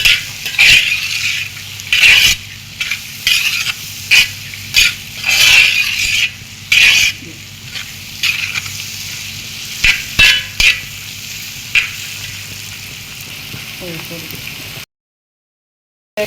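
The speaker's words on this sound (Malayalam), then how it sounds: "ഇതിന് ശേഷം ഒന്ന് നല്ലപോലെ ഇളക്കി കൊടുക്കാം" Beef fry being stirred in a pan, a spoon scraping and clinking against the metal in short, irregular bursts over a low sizzle, with a voice talking between strokes before the sound cuts out near the end.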